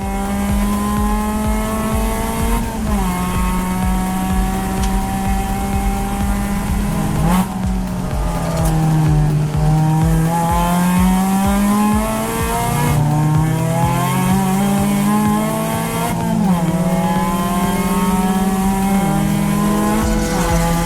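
A Mazda Miata race car engine revs high and drops repeatedly through gear shifts, a loud continuous drone of a car driving hard during an endurance race at Clark Speedway.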